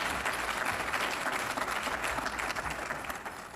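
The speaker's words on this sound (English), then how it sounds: "Let's give him a round of applause" Loud, dense applause fills a community luncheon hall as the audience welcomes a speaker to the platform, a continuous roar of many hands clapping with no pause.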